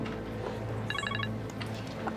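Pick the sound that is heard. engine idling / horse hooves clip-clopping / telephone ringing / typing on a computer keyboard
telephone ringing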